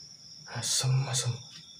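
At night in an empty building during camping, a cricket chirps in a faint, thin, steady trill. A person speaks briefly over it.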